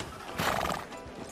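A horse in the Red Dead Redemption 2 video game gives a loud, close neigh, with hooves clip-clopping beneath the whinny.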